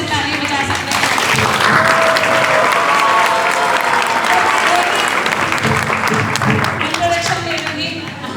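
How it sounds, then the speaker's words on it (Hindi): An audience applauds a devotional stage play about Janabai in Pandharpur, with loud, dense clapping that holds steady for several seconds while a voice speaks over it. "आप लोग जोर से ताली बजा सकते हैं"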